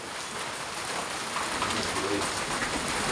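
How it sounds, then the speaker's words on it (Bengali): Pigeons flock in to a feeding spot and coo softly and continuously, close by, with a steady rustling, rain-like hiss running underneath. "সব পায়রাগুলো এসে গেল রাই, কি মজা"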